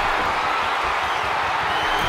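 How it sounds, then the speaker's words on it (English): Crowd roar in the WWE 2K23 wrestling video game during a Friday Night SmackDown match, a dense, steady wash of cheering that stays loud and continuous without breaks. "The sound of this crowd is deafening"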